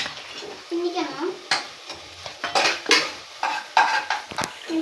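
A spoon scrapes and clatters against a cooking pot while chicken biryani with ginger is stirred over sizzling heat, with irregular knocks and scraping strokes above a soft frying hiss.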